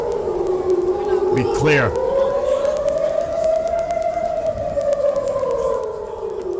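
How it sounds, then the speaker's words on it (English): Air raid siren in Israel wailing loud and sustained with a slow rise and fall in pitch, while a person briefly speaks over it early on. "This is the sirens we heard earlier, a few minutes ago."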